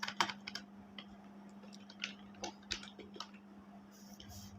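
Computer keyboard typing, quiet and close, with irregular clusters of light key clicks and short pauses between bursts over a steady low hum.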